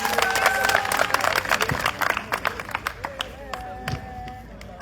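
A congregation at a rosary teaching gathering in Yaoundé claps for a performing group, with sharp, scattered hand claps mixed with voices, the clapping dense at first and growing sparser and more irregular.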